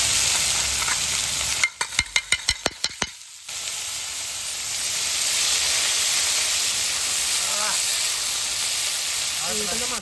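Food sizzles and fries loudly in a pan during beef curry cooking, a continuous close hiss broken by a short burst of rapid clicks or taps partway through.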